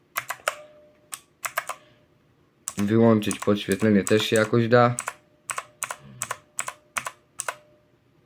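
Typing on an XPG Summoner Mini 60% mechanical keyboard with Outemu Blue switches: sharp clicky keystrokes in quick bursts, loud and close, with someone talking briefly in the middle before the clicking resumes.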